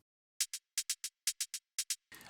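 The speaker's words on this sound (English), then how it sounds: "The open hats or the 16 hat sounds like this." A crisp open hi-hat sample for melodic techno plays alone in a clean, rhythmic pattern of short bright hits in groups of two and three, repeated across the bar, cut off by a brief noisy tail at the end.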